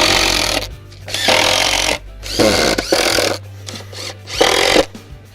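A power drill drives 3/4 inch wood screws through 3/4 inch plywood into metal while building a gym bench, with loud close whirring bursts of about a second each, separated by short pauses, with no talking.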